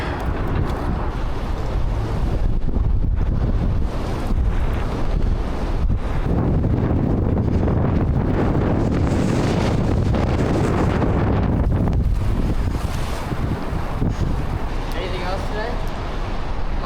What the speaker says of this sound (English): This wind is knocking me over. It's so difficult to fish in wind like this.